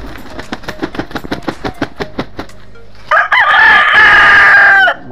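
A fighting rooster, a one-time cockfight winner, gives a run of rhythmic close clucks, then a pause, then a single loud, drawn-out crow.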